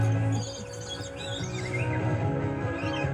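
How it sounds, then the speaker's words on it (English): Small birds flying free inside an aviary chirp and tweet continuously, several high calls overlapping at moderate distance against a steady hum of background noise. "Oh, there's some different birds in here."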